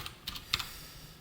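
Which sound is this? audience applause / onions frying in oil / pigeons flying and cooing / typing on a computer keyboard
typing on a computer keyboard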